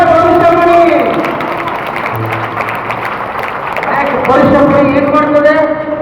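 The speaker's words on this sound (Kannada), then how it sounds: "ಬರಲಿ ಚಪ್ಪಾಳೆ, ಪರುಷಮಣಿ." Audience clapping at a school's 24th anniversary celebration, a broad sustained wash of applause running under loud speech from a man addressing the crowd over a PA.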